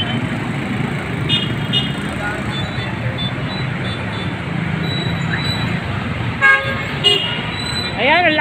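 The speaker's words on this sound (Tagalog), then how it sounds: "ang laki ng sasakyan" A large vehicle passes on a road amid steady traffic rumble, with several short horn toots near the end. People talk over the din.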